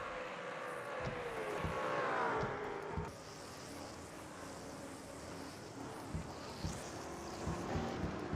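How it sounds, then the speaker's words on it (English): Race cars in a racing video game roar past one after another, their engine whines rising and falling over a constant background drone of the field, with no talk heard. "All the cars going past her."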